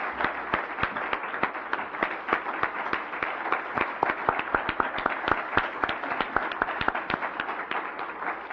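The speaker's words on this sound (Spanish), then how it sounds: "ponen de pie y le dan un aplauso al Señor Jesucristo." A church congregation applauding, with sharp, rhythmic clapping that is loud and close over a steady bed of crowd noise, repeating evenly for several seconds.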